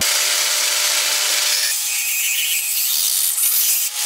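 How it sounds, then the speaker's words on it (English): A bandsaw cuts a piece out of stock in a workshop, a loud continuous high buzzing rasp that shifts in tone partway through as the blade works, ending with a brief sharp noise. "And we'll try and cut that out on the bandsaw."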